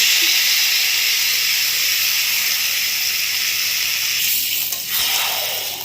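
Meat tossed into a hot pan of fried onion sizzles in a loud, steady hiss, fading slightly near the end, with no one talking.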